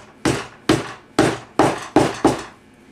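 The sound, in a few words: hammer tapping upholstery nails into a chair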